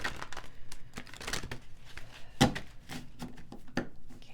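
A deck of advice cards is shuffled by hand nearby, giving bursts of crisp riffling and crinkling card noise with irregular slaps and taps.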